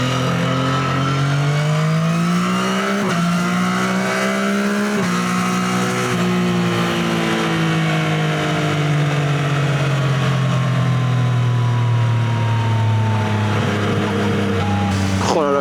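A Yamaha motorcycle engine runs steadily while riding on the road, the engine note climbing and falling as it shifts through gears, droning loudly and continuously with wind noise, and a rider's voice speaks over it.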